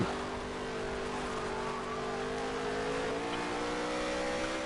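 Race cars at Charlotte Motor Speedway in a racing video game, a continuous loud engine drone that climbs gradually in pitch as the cars run close together; no voices.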